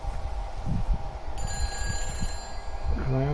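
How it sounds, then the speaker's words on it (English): A phone rings in short electronic trills partway through, fairly faint, beneath a voice and background game sounds in the video game Everybody's Gone to the Rapture. "Oh, we've got a phone"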